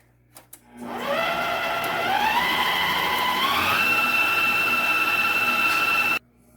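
An electric mixer whirs through bread pudding filling, starting with a couple of clicks, then ramping up in pitch to a steady, loud motor hum with a whining tone that steps higher before cutting off abruptly.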